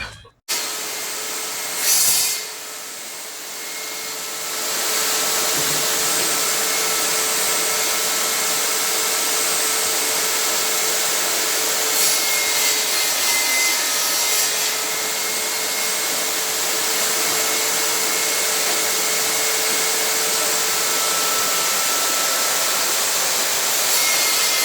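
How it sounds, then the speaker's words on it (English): A power saw cuts wooden boards for building a penny hockey board, whining loudly and steadily close by for over twenty seconds after a brief spin-up, with no speech. "now I'm going to go ahead and cut these boards to make all the edges for the sides of these"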